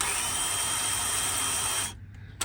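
A battery-operated Ryobi cinch-ring PEX crimp tool runs with a steady, loud motor whine for about two seconds, then stops abruptly, leaving a faint brief click near the end.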